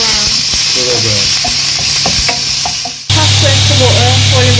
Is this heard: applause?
no